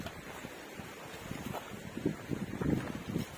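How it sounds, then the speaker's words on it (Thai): Strong wind buffets the microphone at a seaside tent campsite near the Noen Nang Phaya viewpoint on the coast, a steady roar with gusts swelling louder toward the end, no voices. "ผมรู้สึกว่าลมมันแรงนะลมมันแรงกว่าไปกางเต็นท์บนที่ภูเขาอะไร"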